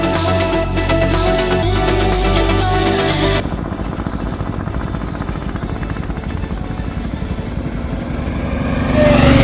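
Tractor engine running on a long road race, a loud continuous rumbling drone with rapid mechanical chatter, the tone shifting partway through and rising again near the end.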